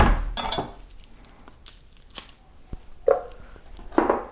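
A garlic clove and pieces of beet drop into a glass blender jar, giving a few scattered clinks, knocks and rustles with quiet pauses between them.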